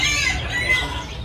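Rooster at a Vietnamese rooster beauty contest, clucking and calling in short bursts close by, with a few thin high tones above a low background murmur.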